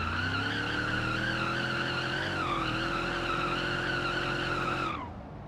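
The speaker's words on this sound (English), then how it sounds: "Oh, it does burnouts for distance" A Blue Buck car in BeamNG.Drive doing a burnout, its tires letting out a long, loud, steady squeal with a wavering pitch that cuts off abruptly near the end, no talk.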